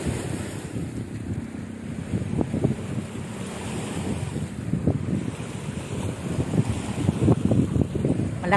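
Strong gusty seaside wind buffets the microphone in uneven bursts, with a constant roar like surf in the background and no talking.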